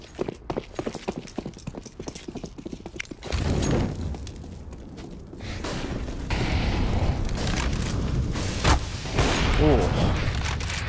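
Grenades burst during a professional CS:GO match between HellRaisers and FaZe on the Overpass map, heard as sustained booming and rumbling blasts beneath game noise and excited commentary after a choppy opening stretch of footsteps and clatter.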